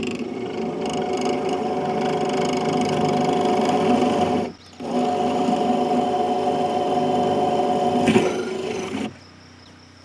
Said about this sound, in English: what I'm going to do again is I'm going to drill a pilot hole through there first.